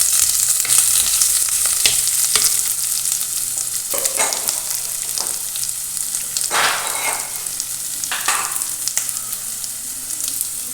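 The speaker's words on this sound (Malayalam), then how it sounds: "ഉലുവ ഒന്നായി കഴിഞ്ഞ് വരുമ്പോൾ നമുക്കിത് കുറച്ച് കറിവേപ്പില ഇട്ട് കൊടുക്കാം." Curry leaves, ginger and garlic sizzle loudly in hot oil with fenugreek in a pan for a curry, a constant crackling fry with occasional sharper pops and stirring, close and with no voice over it.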